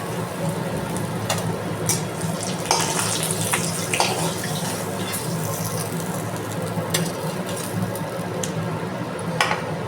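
Fish pieces fry in oil in a wok over a lowered gas flame, giving a steady, dense sizzle that runs throughout, with occasional light clinks of a utensil.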